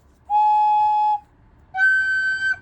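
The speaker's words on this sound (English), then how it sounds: "That one whistles too much, don't like it." A 3D-printed plastic organ flue pipe whistles in two sustained, clear tones, the second slightly higher, each lasting about a second with a brief gap between, heard alone and close.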